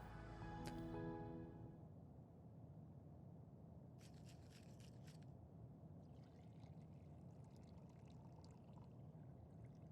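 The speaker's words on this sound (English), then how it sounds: "I hear the shaking, the pouring." A cocktail poured in the Final Fantasy XIV video game, a faint game-audio pour over low ambient hum, followed by soft rhythmic rattling bursts, all quiet and distant.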